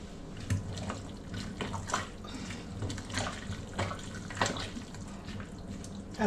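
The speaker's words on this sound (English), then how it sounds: "So I'm going to add some water into it because it has to have some kind of a stew." A little water pours into a pot of githeri, Kenyan maize-and-bean stew, in a home kitchen, a soft continuous splashing trickle heard close up without talk.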